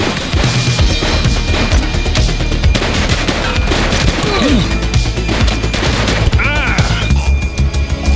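Sustained gunfire rings out in The Precinct, a police video game, during a cop shootout with armed suspects: dense, loud volleys of rapid shots and impacts run throughout, with voices talking over them.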